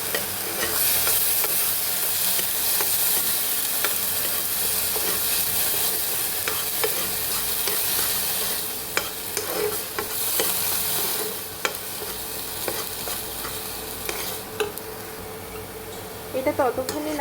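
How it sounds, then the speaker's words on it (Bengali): Papaya paste frying in ghee for a plastic rasmalai sweet, stirred steadily with a continuous close sizzle, while scraping strokes grow more audible toward the end. "এটা ততক্ষণই নাড়তে হবে যতক্ষণ না পেঁপের জলটা শুকিয়ে যাচ্ছে।"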